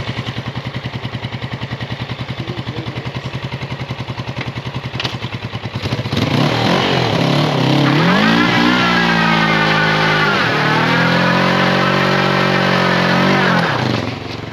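A 1980 Suzuki GS450 motorcycle engine runs steadily with a close, even putter, then rises in pitch and loudness as it revs and holds higher, with no talking.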